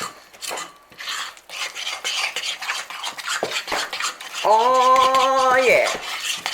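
Marble brownie batter mixed in a bowl with a utensil, giving steady scraping and tapping strokes close up, with a sustained tonal squeak near the end and a brief spoken word.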